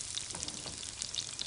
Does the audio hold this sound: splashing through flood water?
no